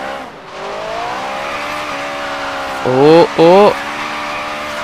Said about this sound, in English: That was a really good drift for that one.